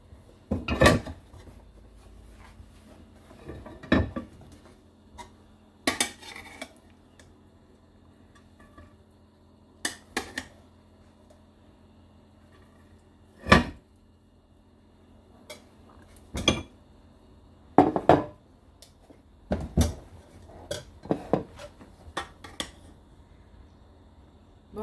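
Chana pulao rice served from a cooking pot into a dish at home, heard as scattered clinks and scrapes of a serving spoon against metal and crockery, coming in irregular bursts with quiet gaps between them and no talking.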